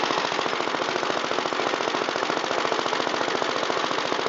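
Gravely 65 LI tractor engine running after a block change, a steady rapid pulsing putter heard close and alone, with an even rhythm throughout.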